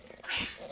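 A single quick sneeze bursts out close by, a sharp breathy hiss lasting a fraction of a second.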